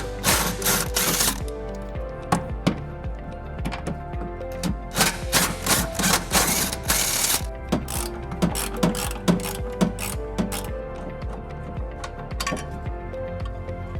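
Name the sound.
removing tow hook bolts on a 2012 Nissan Rogue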